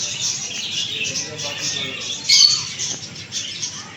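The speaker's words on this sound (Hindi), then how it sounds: "ये नस्ली तोते हैं, ये भी देख लें, इनको हर चीज़ का पता है।" A flock of purebred parrots squawks and chirps in a steady, dense chorus close by, with one louder burst of calls about midway and a voice talking faintly underneath.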